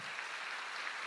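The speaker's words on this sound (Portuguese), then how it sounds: "Aplauda ao Senhor Jesus" A church congregation claps during a worship service, producing a brief, dense burst of applause at an even level with no speech heard.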